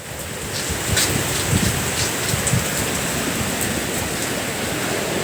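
Heavy typhoon rain pours steadily at a Batangas beach resort as a dense, loud continuous roar with gusty surges, blending with surf-like wash and no voices.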